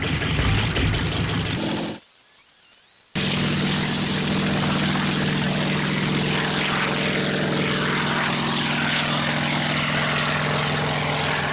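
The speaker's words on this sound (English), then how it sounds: "it's actually a Sikorsky S-58 helicopter." Engine and rotor of a Sikorsky S-58 helicopter roar loudly and steadily, with a broad low drone and layered hum that cut out for about a second before returning at full, constant strength.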